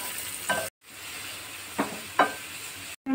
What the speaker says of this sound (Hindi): तब इसमें डालेंगे बारीक कटा हुआ प्याज। इसे गोल्डन होने तक पका लेंगे।